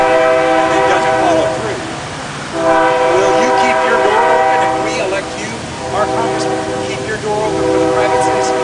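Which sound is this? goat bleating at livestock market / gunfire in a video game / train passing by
train passing by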